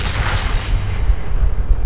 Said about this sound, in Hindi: साला गोली मार रहा वहां से, ये है देखो, ये गोली मार रहा है।